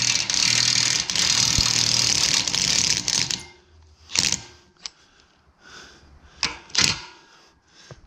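A DEWALT impact driver loosening bolts on the tines of a muck grab: a long stretch of loud, grinding hammering, then quieter scattered clicks and short mechanical bursts as the tool and parts are handled.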